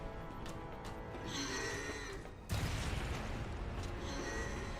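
An explosion in Resident Evil 6 goes off midway as a sudden broadband blast, then a sustained rumbling roar follows over faint game background noise.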